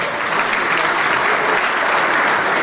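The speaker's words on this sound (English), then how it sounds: "I think you deserve a much bigger round of applause than that, ladies and gentlemen" Sustained applause from an awards ceremony audience, a dense steady wash of clapping that fills the room at full strength from start to finish with no voices rising above it.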